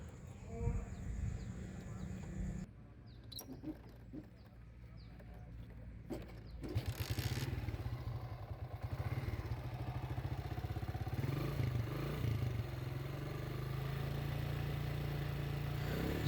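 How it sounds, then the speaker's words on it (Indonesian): An old 2006 Suzuki Shogun 125 SP motorcycle engine, said to run a little rough with age, starts after some clatter and settles into a steady low idle close by, with a voice talking over it. "Suara mesinnya nggak terlalu halus karena dia motor lama ya"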